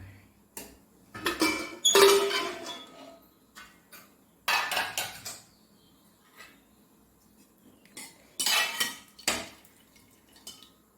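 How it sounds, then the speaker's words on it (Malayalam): A pressure cooker holding cooked lentils and jackfruit seeds is opened in a home kitchen, with bursts of metal utensil clinks and clatter separated by brief quiet gaps. "ഇപ്പോൾ മൂന്ന് വിസിൽ വന്നു വിസിലെല്ലാം പോയി നമുക്കിതൊന്ന് തുറന്ന് നോക്കാം"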